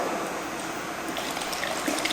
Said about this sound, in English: I'm going to pour this water in here